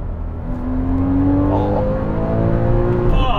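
A new car's engine revs hard under acceleration, a steady loud rising whine that climbs in pitch through the gears, heard from inside the cabin without talk.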